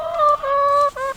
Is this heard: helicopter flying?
no